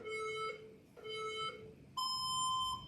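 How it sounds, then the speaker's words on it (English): An electronic workout timer sounds three loud tonal beeps, two lower ones followed by a higher sustained one, with a brief pause between. "Don't stop when you hear the buzzer start."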